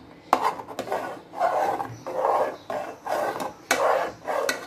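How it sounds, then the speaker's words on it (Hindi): A pot of rice with a little milk being stirred for kheer, a spoon scraping and rubbing against the metal in repeated strokes, close and steady, with no voices. "थोड़ा सा मैंने दूध डाला है ताकि इसको अच्छी तरह ये मिक्स कर लें चावलों को"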